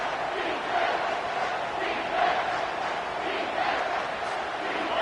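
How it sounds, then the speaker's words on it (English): Home crowd at a football game roaring steadily, a dense sustained wash of cheering and shouting from a large stadium audience, loud and unbroken throughout. "how nice is it to have the home crowd going absolutely bananas?"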